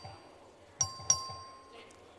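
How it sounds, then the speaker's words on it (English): Bright electronic voting bell in the Texas House chamber, struck three times: two quick chimes close together, then a third after a pause, each ringing clearly over a quiet room. "The clerk will ring the bell."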